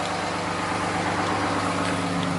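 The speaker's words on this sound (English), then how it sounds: "I guess it just automatically idles up when it's cold." A pickup truck's engine idles up on a cold start, giving a steady low rumble with a constant hum and no breaks, close and moderately loud.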